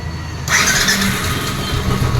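A Royal Enfield Bullet 500 fitted with a carburettor kit in place of EFI cranks briefly and fires up on the first try, then settles into a loud, steady thumping idle close by.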